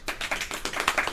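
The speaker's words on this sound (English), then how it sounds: "Claire, clap for us." Sparse hand claps from a small group after a casual podcast-style segment, irregular slaps about every tenth of a second for just over a second, close and moderately loud with no talking over them.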